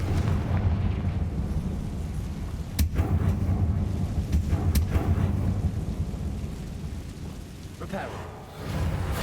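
Confringo explosion spell cast in Hogwarts Legacy, a deep rumbling blast with a few sharp cracks that rolls on for several seconds, loud and close, with faint background ambience.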